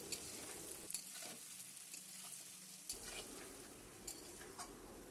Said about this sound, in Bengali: তো এবার ভালো করে সবজিগুলো ভেজে নেব